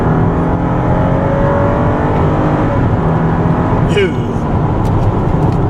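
A 2015 Toyota Camry V6 sedan engine revs and accelerates hard, a steady strong drone heard from inside the cabin, with a voice talking over it.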